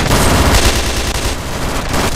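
Rapid automatic gunfire in the video game Ravenfield rattles continuously and loudly, dense overlapping shots with no pauses.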